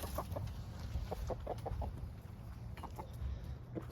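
Free-range chickens and a rooster cluck in short, scattered bursts over steady outdoor background noise, fairly faint and at a moderate distance.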